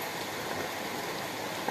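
Rain pours down steadily, a dense even hiss of drops close by with no breaks and no voices.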